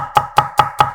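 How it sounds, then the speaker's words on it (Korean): Four crisp, evenly spaced knife strikes on a cutting board as two whole garlic cloves are coarsely minced, close and sharp with no talking. "빠질 수 없는 통마늘 2개는 살짝 굵게 다져 준비해주세요."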